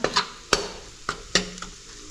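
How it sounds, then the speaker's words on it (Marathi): Spice masala sautéing in oil: a soft sizzle broken by several sharp spoon strikes and scrapes against the pan in an uneven rhythm, close by. "मसाला तेलात चांगला परतून घ्यायचा"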